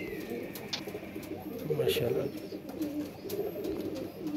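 Pigeons coo in low, rolling phrases close by, with a few sharper chirps and clicks around them, while someone speaks a brief word over the birds.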